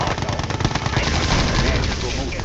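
Machine gun fire in the Red Alert 2 video game, a dense, continuous rattle of rapid shots layered with explosions, loud and sustained throughout.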